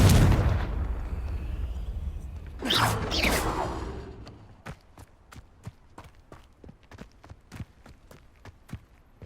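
A Confringo fire spell goes off in Hogwarts Legacy on PS5 in Hogsmeade with a loud whooshing blast. Short game sounds lead into it, and a long run of crisp, evenly spaced footstep-like clicks follows.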